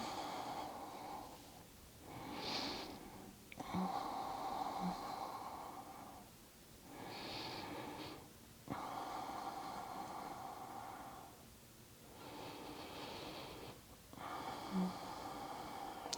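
Slow, long, deep breaths during a yoga session, each inhale and exhale a soft airy rush a few seconds long, repeating in an even rhythm, quiet and close.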